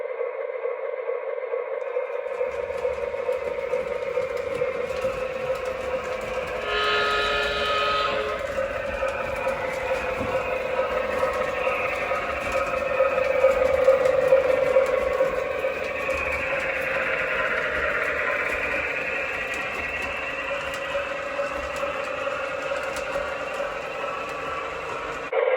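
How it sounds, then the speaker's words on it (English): A Menards O gauge F unit model train runs on a staging track with its bell ringing loudly. A sustained mechanical hum carries a repeated ringing tone, with a louder swell midway through. "I will mention that the bell, I wish the bell wasn't quite as loud."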